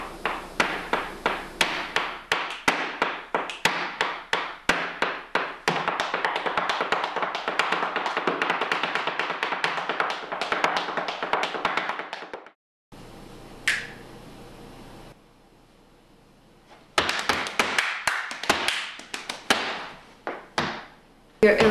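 Flamenco dance shoes strike a percussive floor in rapid, crisp heel-and-toe taps, dense sharp rhythmic bursts that pause briefly then resume, close and loud with no talking.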